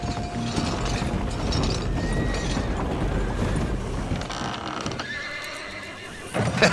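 A horse in a video game neighs and whinnies over steady clip-clopping hooves and mechanical ratcheting, continuous and fairly close, with a sharper burst at the end.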